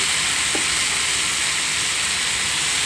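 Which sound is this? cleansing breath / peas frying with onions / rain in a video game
peas frying with onions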